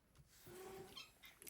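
A pet cat named Twinkle meows indoors, a couple of soft, drawn-out meows and short chirpy calls at close range, quiet overall.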